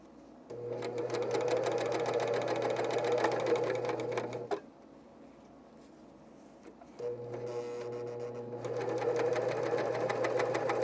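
A serger sews picot elastic onto underwear in two runs of fast, even mechanical whirring and rattling, separated by a quieter pause of a few seconds, close and without talk.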